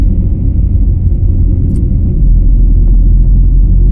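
A Hyundai i10 hatchback on the road gives a loud, steady low rumble of engine and road noise, heard continuously from inside the car.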